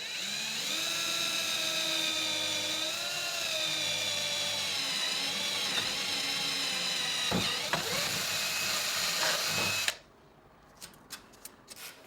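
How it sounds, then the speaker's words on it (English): A high-pitched power drill with a 1/8 inch bit whines steadily for about ten seconds, close by, drilling a small hole, then cuts off, followed by a few light clicks. "I'm going to use an 1/8 inch drill bit and just tap in a small hole."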